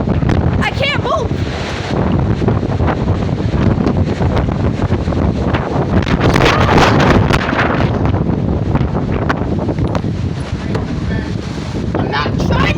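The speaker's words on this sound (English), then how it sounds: "The wind's blowing me." Extreme windstorm with EF2-strength winds roaring outdoors, a loud, heavy rumble buffeting the microphone nonstop, with gusts rising and falling while a person shouts and exclaims over it.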